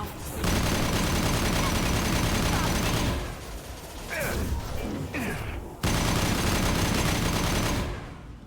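Sustained gunfire in the video game Mass Effect: dense, loud bursts of automatic shooting that briefly thin out mid-way with scattered impacts, then resume at full intensity before cutting off.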